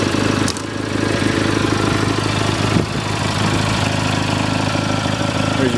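Cub Cadet 1420 Hydro lawn tractor engine idling steadily and close by, a continuous low rumble with a couple of brief clicks, no talking.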